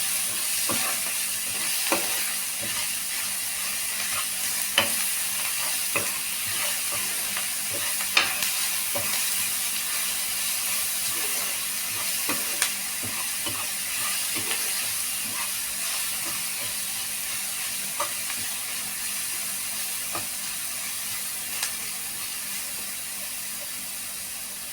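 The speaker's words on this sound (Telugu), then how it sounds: "కొంచెం 1 నిమిషం ఇట్లా నూనెలో మగ్గినాక కాలీఫ్లవర్ వేసేది." Green chilli paste fries in oil in a pan, giving a steady close hiss and sizzle for a long stretch, broken by scattered sharp clicks from stirring.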